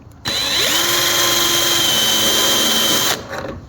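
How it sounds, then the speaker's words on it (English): A power drill whirs steadily for about three seconds while pre-drilling door hinge holes, a loud continuous motor whine with a slight pitch shift, then cuts off abruptly. "Keep our drill as level as we can."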